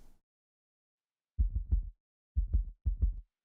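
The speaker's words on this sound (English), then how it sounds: "Here's the heartbeat." A heartbeat sound in the Shadowverse game music track: three close, deep lub-dub thumps after a short silence, heavy and slightly clipped, heard alone.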